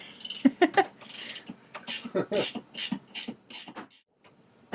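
A ratchet works on a Yanmar engine mount bracket bolt, giving a series of close, irregular clicking and rasping strokes with brief pauses between them.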